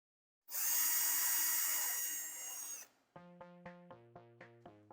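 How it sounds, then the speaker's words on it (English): A power drill with a 7/32 bit drills holes through a Mercedes Sprinter dash mount. Its high, steady whine runs for about two seconds and tapers off, followed by a short run of bright, evenly spaced melodic tones. "we're going to take our same 7/32 drill bit and drill out the inner holes through the notched portion in the top of the mount"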